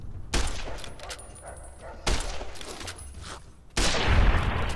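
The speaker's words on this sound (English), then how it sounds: "I shot him in the foot and he died." Three sharp gunshots in Fallout: New Vegas crack out at roughly one-and-a-half-second intervals, each followed by a short rumbling decay, loud and close.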